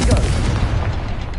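A fiery blasting-spell explosion in Hogwarts Legacy, one heavy, booming burst with a deep rumbling tail, loud and close, filling the short moment alone.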